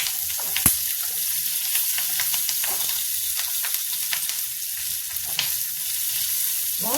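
Spicy chili peppers frying in a pan with oil, giving a steady close hiss and crackle with brief sharper pops and occasional stirring scrapes, no voices.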